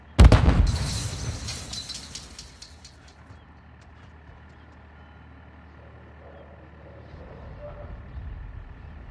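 A grenade explosion in a video game, one sharp, loud boom at the start that rolls off into a long fading rumble, leaving a quiet low ambience with faint background tones.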